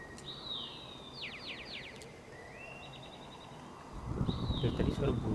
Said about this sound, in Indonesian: Dari tadi suara burung terus ya